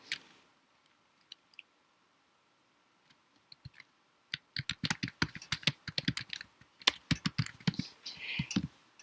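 Fingers type a file name on a Mac keyboard, starting with a few scattered key clicks and then breaking into a dense, fast run of crisp, close tapping in quiet surroundings.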